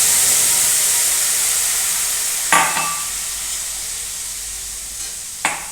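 Red garlic chutney sautéed in oil with mustard seeds and asafoetida gives a steady loud sizzling hiss that slowly fades, broken by two brief clatters of a stirring spoon.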